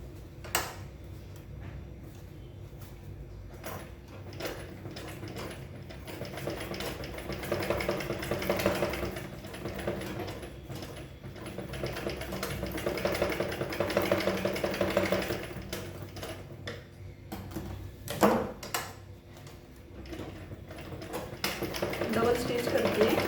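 A domestic sewing machine stitches a small cloth bag made from fabric scraps, its quick mechanical ticking running in bursts beneath a voice speaking throughout.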